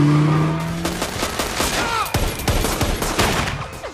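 Police gunfire rings out at a car fleeing the scene in an action film, a rapid volley of sharp cracks over a roaring engine and squealing tyres, loud and dense throughout.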